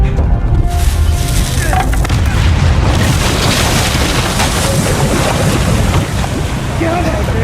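A loud, sustained roar of blasts and rushing water fills a scene in the video game Uncharted 4, a dense, continuous wash of noise.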